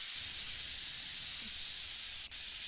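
A spray paint can in the Woodwork Simulator video game lets out a continuous, even hiss that holds for the whole stretch, faint and airy, with a brief break near the end.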